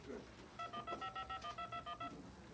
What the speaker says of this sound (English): in about 5 seconds, it'll dial out